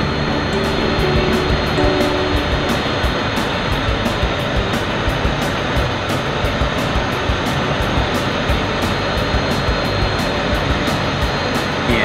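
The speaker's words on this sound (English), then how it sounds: "It was then time to move on to the solo moves of the F-16." An F-16 fighter jet performs solo roll maneuvers at a Thunderbirds air show, its engine roaring as a steady, loud, broadband jet rush that continues without a break.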